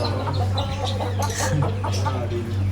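Several chickens cluck and chatter in short bursts over a steady low hum, with a few sharper squawks mixed in.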